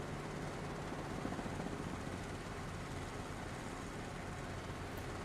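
A light helicopter in a flight simulator game gives a steady, continuous rotor and engine drone at an even level throughout, with no voices.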